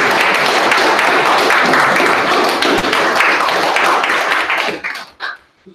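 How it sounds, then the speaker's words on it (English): A roomful of people at a monthly meeting gives a big round of applause, loud dense clapping that holds steady and then tapers off into a few last claps and quiet. "So I want to have a big round of applause."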